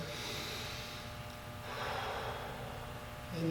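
Steady audible breathing during a flexibility stretch, slow drawn breaths running continuously at close range with no talking.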